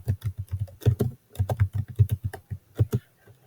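A name is typed on a computer keyboard in quick, uneven bursts of close, crisp key clicks, with a short pause midway and a few last taps at the end.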